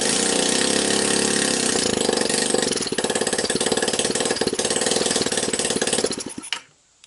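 An ATV engine fitted with a pit bike CDI and wire harness runs at a steady, buzzing idle, then its rhythm turns choppy and uneven before it sputters and cuts out near the end.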